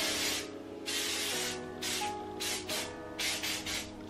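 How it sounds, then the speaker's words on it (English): Ion Volumizing Freezing Spray hairspray is sprayed onto hair in repeated close hissing bursts, about seven or eight short spurts with brief gaps between them. "what I'm gonna do is I'm gonna put some hairspray in"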